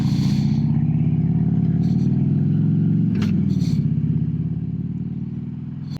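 A motor vehicle engine drones steadily and loudly on a road in Northwest Arkansas, a low rumbling hum that holds throughout with slight swells and a faint clatter midway.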